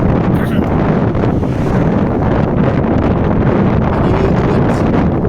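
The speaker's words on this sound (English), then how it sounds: "you hear the wind. The wind makes it more cold." A cold wind gusts down a street in Medjugorje, Bosnia and Herzegovina, roaring and buffeting close against the microphone for the whole stretch.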